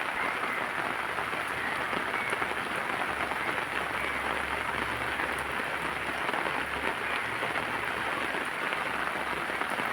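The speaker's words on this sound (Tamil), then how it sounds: "நல்லா சூப்பராக மழை பெஞ்சிருக்கு நண்பர்களே. சத்தம் கேட்குதுங்க உங்களுக்கெல்லாம்." Heavy rain pouring down in a village, a thick, constant patter and hiss of drops hitting surfaces nearby, steady from start to finish with no talking.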